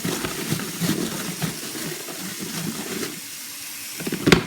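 Plastic fodder tray for hens being scrubbed and rinsed under running water, a steady wet splashing and rubbing with irregular scrubbing strokes and a brief louder splash near the end.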